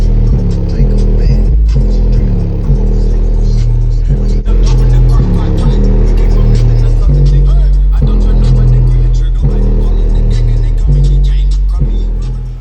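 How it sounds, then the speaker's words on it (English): Music with heavy, pounding bass plays loud and continuous through the aftermarket bass system of a pickup truck, a steady thumping low end throughout. "So let's put some radio on."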